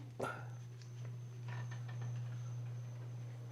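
Crickets chirp at night outside a room's balcony, faint and distant, with a steady low hum running underneath and a few soft clicks.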